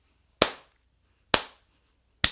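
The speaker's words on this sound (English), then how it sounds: "Slow Rudy clap for that." Three single hand claps spaced about a second apart, sharp and close, a deliberately slow clap with silence between each strike.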